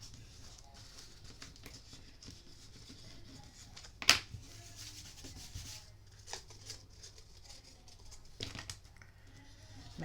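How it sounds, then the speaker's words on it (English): Glued paper pressed onto a papercraft explosion box is rubbed down by hand, a faint, close, steady scuffing with one sharp tap partway through. "Flip it over and give it a little rub."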